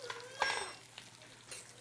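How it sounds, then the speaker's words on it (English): Steady oily sizzling of steak frying in oil in a pan, with a few clinks and stirring scrapes over the crackle, no talking. "We're basically frying the steak"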